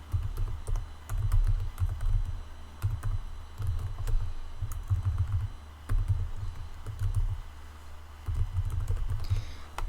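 Steady typing on a computer keyboard while entering WordPress login details, rapid clustered keystrokes in bursts with short pauses, close and fairly quiet over a low hum.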